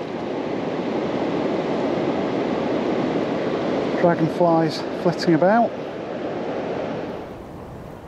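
Turbulent river water churning below a weir pool on the River Thames, a steady broadband rush throughout, with someone speaking briefly over it in the middle.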